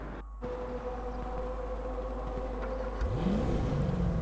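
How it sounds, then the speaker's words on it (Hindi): A Toyota Prado engine in GTA 5 hums steadily at idle as the car pulls out, then revs up near the end with a rising whine, close and alone with no talk. "गाड़ी को ज़रा बाहर निकालते हैं इधर से।"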